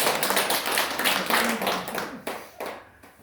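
A church congregation claps together in a lively burst during a sermon, thick and close at first, then thinning into a few scattered claps before fading out.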